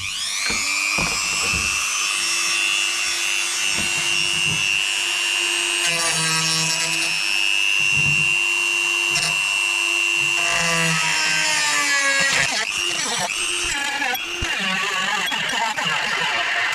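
Angle grinder grinding distorted, stuck metal parts during a Suffolk Super Punch 17-inch lawnmower chassis teardown: a sustained high whine runs nearly throughout, pitch shifting as load changes, with brief breaks and scraping near the end.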